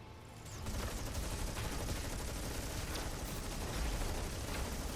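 Vulcan units open fire in a Stormgate match, a continuous loud barrage of gunfire and impacts layered with battle noise that persists throughout after a short quieter start.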